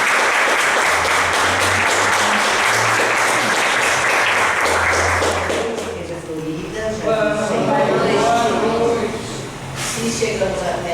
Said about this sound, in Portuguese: Dê uma forte salva de palmas para o Senhor